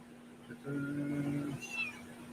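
A cat meows for attention indoors, one drawn-out, clear meow followed by a shorter rising call, fairly close and alone with no talk.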